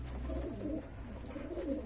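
Pigeons cooing softly in a loft, low throaty rolling coos repeating over a steady background hum, fairly faint and close.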